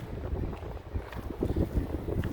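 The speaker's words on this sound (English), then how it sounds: "Now it is kind of windy here" Wind buffets the microphone at the Circus Maximus in Rome, a steady low rumble with irregular gusts, close and fairly loud, with no voices.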